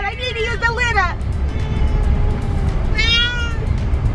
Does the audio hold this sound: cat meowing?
yes